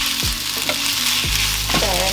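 Yaki udon noodles sizzle and fry in a hot pan as dark soy sauce is added, a steady loud hiss broken by several scraping stirs of the utensil.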